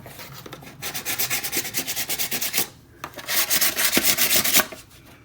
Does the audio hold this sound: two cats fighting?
no